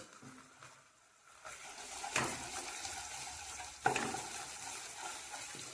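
Ginger and garlic paste sautés in a pan for a mustard-poppy seed pabda fish curry, a soft steady sizzle broken by two brief scraping stirs of the spoon, close and fairly quiet.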